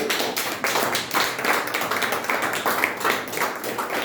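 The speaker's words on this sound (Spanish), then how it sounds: "Dele un aplauso a nuestro Señor." Congregation clapping during a church service, a dense steady patter of many hands filling the space, loud and continuous with slight rhythmic swells.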